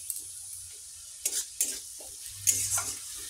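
A spice paste thinned with a little water sizzles in a pan as a utensil stirs it, giving a few distinct scraping strokes over a low, close, steady frying hiss, without voices.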